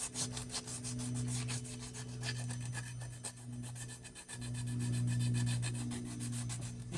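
Sandpaper rubbing steadily back and forth on an engine surface before brake cleaning, close and continuous with a brisk scratchy rhythm over a low steady hum, no voices.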